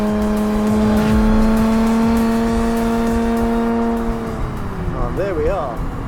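Nissan Z Nismo sports car with a manual gearbox on a track, the engine droning loudly at steady revs from inside the cabin, then easing off as revs drop and shift, with a voice talking briefly near the end.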